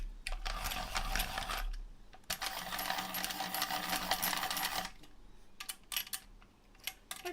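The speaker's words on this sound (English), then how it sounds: "Maybe I should get a new sharpener." Pencil sharpener grinding a coloured pencil: a sustained whirring rasp running for several seconds with a short break, then a few brief clicks and taps.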